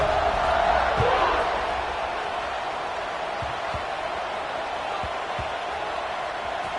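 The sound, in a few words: football stadium crowd cheering after a score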